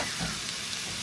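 Garlic and soy sauce frying in a pan, a dense continuous sizzle heard close and fairly even throughout the brief moment.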